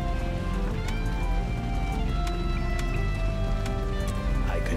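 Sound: rain falling in a video game

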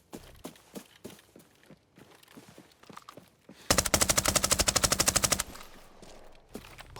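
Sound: MP5 gunfire in video game Arena Breakout

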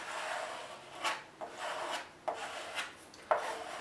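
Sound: scraping excess epoxy off glider wing

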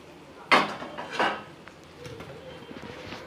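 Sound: lid lifted off cooking pot

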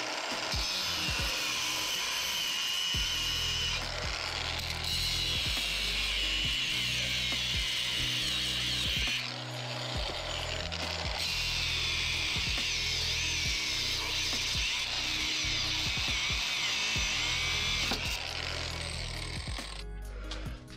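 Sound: cutting a bolt on a 1998 Subaru Impreza crossmember

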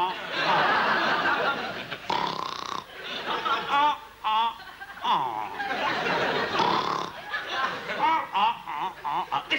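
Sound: comedian imitating snoring

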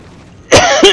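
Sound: coughing

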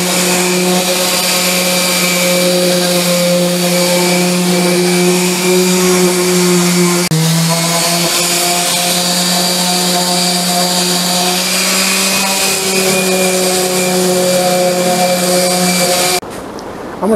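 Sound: power sanding wood edges

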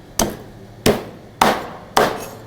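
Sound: cutting carp fish with a cleaver

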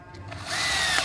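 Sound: Bosch drill driving a screw

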